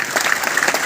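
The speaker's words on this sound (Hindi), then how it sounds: "Last 1 minute Tali बजाइए।" An indoor audience at a business meeting in Gurunanak Bhawan, Ludhiana, claps in a dense, steady burst of applause, loud and continuous with many hands overlapping.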